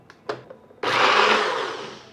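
A kitchen mixer grinder grinds a cooled onion mixture into paste, starting after a couple of soft clicks with a loud, sustained whirring roar that slowly fades.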